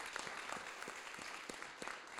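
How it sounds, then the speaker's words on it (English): Room-filling round of applause at a business workshop, dense steady clapping from a large crowd that continues without a break and without speech. "I want a huge round of applause for Munir"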